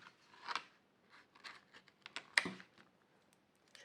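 Quiet snipping and rustling, a few short sharp cuts with small scissors through packaging tape spaced unevenly, one louder snip near the middle, no talking.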